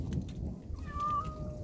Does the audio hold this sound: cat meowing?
yes